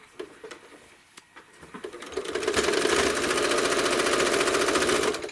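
A home sewing machine quilting a Tuscan Vintage quilt starts with a few isolated stitch clicks, then speeds into a close, continuous whirring run.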